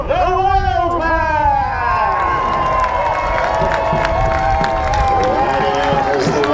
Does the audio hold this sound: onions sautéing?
no